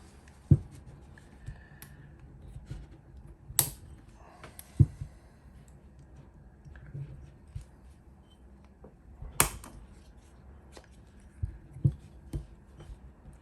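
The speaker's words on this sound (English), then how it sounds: "All right, let's snap these bad boys on." Plastic ball links snap onto an RC helicopter swashplate, producing a few sharp, close clicks and pops scattered among quiet handling noises.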